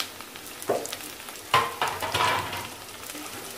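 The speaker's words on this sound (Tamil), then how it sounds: "இப்போ பாருங்க வெங்காயத்தோட நம்ம குடமிளகாயும் போட்டு வதக்கிடலாம்" Onion and capsicum sautéing in a pan for an egg omelette gravy, with soft stirring scrapes and a low sizzle that swells into a few louder bursts midway.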